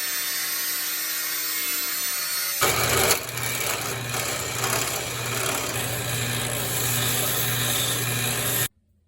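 A loud, continuous power tool grinds and cuts through a metal part of a toy RC car for several seconds, harsh and close, then stops suddenly.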